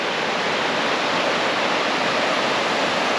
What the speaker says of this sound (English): I heard some rushing water.